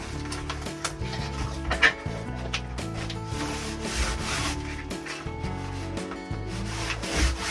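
Adhesive tape being rubbed down by hand onto a narrowboat kitchen wall, a continuous close scraping and rubbing with uneven strokes and small bumps, no voices.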